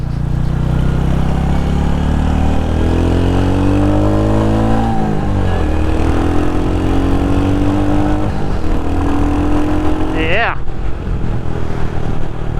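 A 2023 Royal Enfield Hunter 350 single-cylinder motorcycle rides with a loud, close engine thrum that climbs in pitch through several gears, with wind rush throughout and a voice talking over it.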